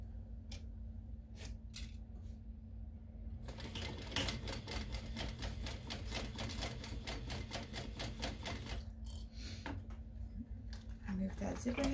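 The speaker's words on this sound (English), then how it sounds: "we're going to sew this in at about a quarter of an inch seam allowance" A sewing machine stitches a zipper onto vinyl and canvas at a quarter-inch seam, first in short separate bursts and then in a fast, steady run of needle strokes before pausing.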